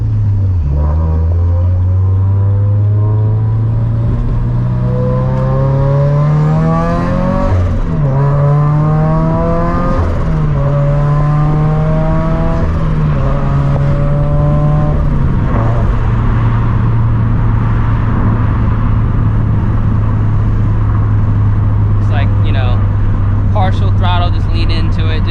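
A turbocharged Scion FR-S engine droning loudly from inside the car, its tone climbing and shifting through several partial-throttle pulls before settling into a steady hum, with someone talking over it.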